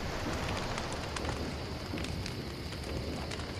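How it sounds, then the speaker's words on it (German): Rain falls steadily in the survival game Don't Starve, a continuous soft hiss of drops with faint patters scattered through it, even and unbroken, with no one speaking. "Und es regnet, na toll."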